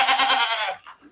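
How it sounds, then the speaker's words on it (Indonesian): A white dairy goat gives one loud, close, wavering bleat that trails off, followed by a short fainter bleat, with no talk. "hari ini mau memandikan kambing ini."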